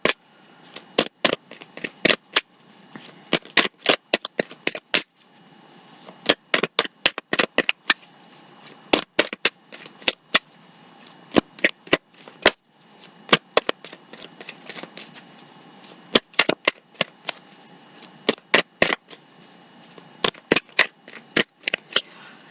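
Tarot cards handled and shuffled close by, crisp riffling and snapping bursts repeating in uneven clusters over a steady soft background hiss, with no talking.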